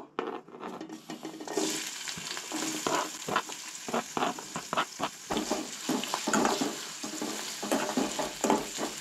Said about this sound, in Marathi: कांदो नाही हलकोसो परतून घेवंक जाय